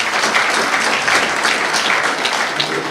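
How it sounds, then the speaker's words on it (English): At a holiday luncheon at USC's Galen Center, a large audience applauds an award recipient with a loud, continuous roar of clapping that holds steady for the whole stretch. "give Keith a round of applause"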